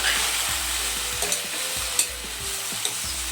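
Chopped okra frying in a pan while being turned over, a steady sizzle broken by soft spatula scrapes and a few clinks of the utensil against the pan, close and continuous with no talking.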